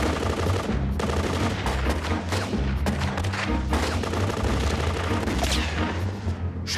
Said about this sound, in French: Rendez-vous, Ulrich, où je tire!